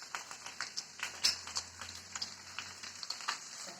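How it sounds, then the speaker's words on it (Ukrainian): Meat frying in a pan after carrots, potatoes, onion and pepper are added, giving a quiet, steady sizzle broken by soft crackles and a few sharper pops, close by with no talking. "М'ясо обсмажене, сюди додаємо моркву та картоплю. Сюди одразу йде цибуля та перець."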